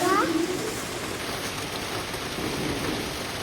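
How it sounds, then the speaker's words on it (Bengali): Heavy rain pouring down during a storm, a dense steady hiss of falling water close by, with a brief faint chirp at the start. "বৃষ্টি শুরু হয়ে গিয়েছে, দেখো অনেক জোরে বৃষ্টি হচ্ছে।"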